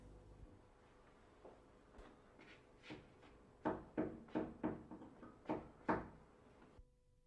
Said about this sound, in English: Using two small wedges, lift the door off the floor.